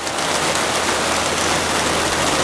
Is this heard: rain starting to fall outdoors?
yes